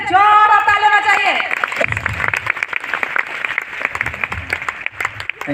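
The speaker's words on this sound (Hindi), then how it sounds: "चलिए अविनाश सर के लिए फिर से जोर और ताली होना चाहिए" A voice rings out briefly before an audience in a hall breaks into clapping, which starts in scattered bursts and settles into a ragged, lively applause of many hands.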